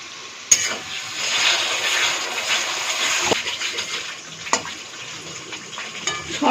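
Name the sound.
spice paste being sautéed and stirred in a pan with sauce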